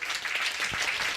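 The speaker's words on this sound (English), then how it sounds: "Let's give all of these young men and women a round of applause." Audience applause at a youth leadership breakfast program, a steady wash of many hands clapping together for just over a second with no speech over it.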